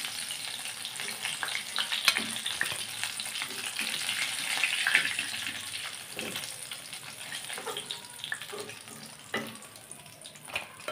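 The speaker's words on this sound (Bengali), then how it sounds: "এভাবে করে আমি সবগুলো চিকেনকে এখন ভেজে নিব" Chicken pieces frying in hot oil, a continuous crackling sizzle with occasional stirring scrapes and pops, steady and moderately close throughout.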